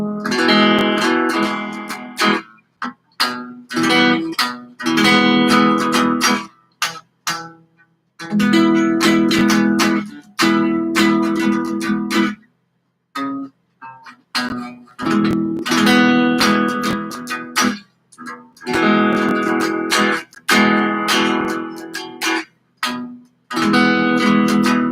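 Guitar strumming chords on the bottom four strings, played in bursts of rhythmic strums with short silent gaps between phrases, loud and close with no talking.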